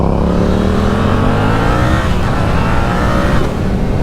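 A Yamaha MT-07 LAMS motorcycle accelerates hard, its engine note climbing steadily through the revs in a loud, close, continuous roar with wind rush.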